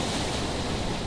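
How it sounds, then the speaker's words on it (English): Storm waves crash inside a beach home at North Topsail Beach, a dense, continuous roar of surf and wind with no breaks or voices. "Take a look at the waves crashing inside this home in North Topsail Beach."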